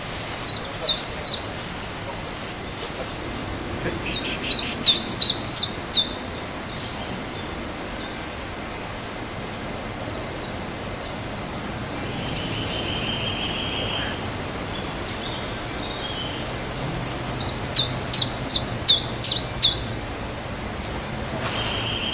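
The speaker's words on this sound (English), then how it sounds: "The birds are still singing in Explosia." Birds call in the open air as smoke from an explosion settles, two bursts of short, repeated high calls, one near the start and one toward the end, over a steady low outdoor hiss.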